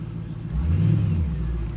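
A nearby Audi A8 4.2 V8 engine revs up, the deep rumble swelling after a brief pause and holding at a louder, steady roar.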